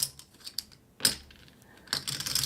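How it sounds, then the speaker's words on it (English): Plastic poker chips being shuffled and riffled by hand, producing bursts of clicky, clattering taps close to the microphone, with a busier stretch of clicking near the end. "That's me shuffling poker chips."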